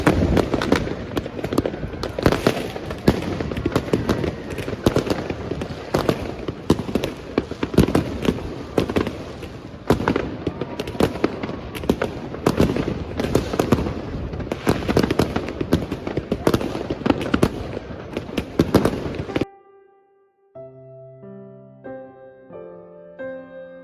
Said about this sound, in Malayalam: പന്ത്രണ്ടായപ്പോഴേക്കും നല്ല കിടിലം വെടിക്കെട്ടായിരുന്നു